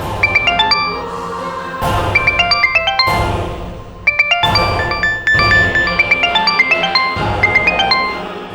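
A telephone rings with a bright electronic ringtone, loud and close, its repeating melodic bursts of chiming tones coming in rhythmic phrases separated by short whooshing accents over a low background.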